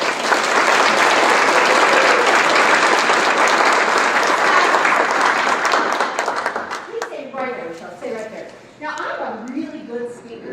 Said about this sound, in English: based upon that gratuitous clapping